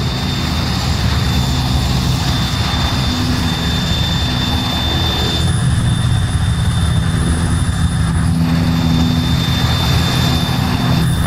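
Military helicopter in the tactical shooter Arma 3, a loud steady rotor and turbine drone holding throughout at close range, alone with no talk.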